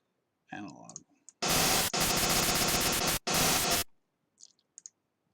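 Bursts of white noise from a Serum synthesizer come in as loud, full-band blocks of hiss. They are cut by brief gaps and surrounded by faint clicks and a softer preceding sound.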